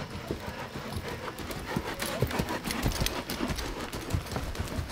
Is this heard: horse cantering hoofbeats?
yes